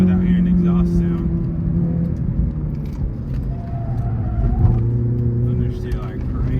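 Car engine intake noise while driving on Portland, Oregon back roads, a steady loud drone and rumble with a shift in pitch partway through and little exhaust note.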